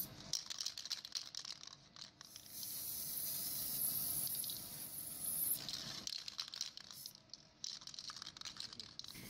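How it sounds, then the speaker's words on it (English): Penetrant testing developer is sprayed in a thin, light coat onto a forged and machined roller, giving a faint hiss that builds for a few seconds among soft rattling and clicking handling noises. "A thin, light coating of developer should be sprayed on the part."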